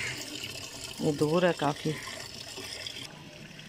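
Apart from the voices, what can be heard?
water filling a gallon container from a tap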